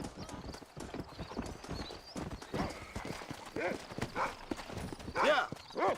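In the video game Red Dead Redemption, a horse's hooves clip-clop in quick rhythm and it whinnies loudly near the end, under nearly constant talking.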